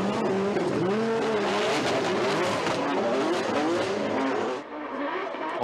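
A drift car at Formula Drift Japan screams through a corner in a sustained, loud engine wail with rising and falling revs and tire squeal, fading slightly near the end.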